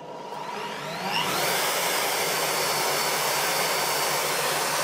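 A bench drill press spins up from a quieter start to a steady, loud, even whirring hum that holds without a break, with no voices over it.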